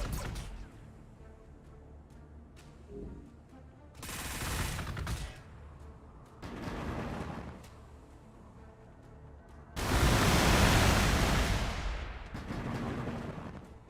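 Gunfire from ship combat in Warhammer 40K Gladius Relics of War, with repeated loud bursts of shooting and explosive barrages coming in several waves, the heaviest near the end.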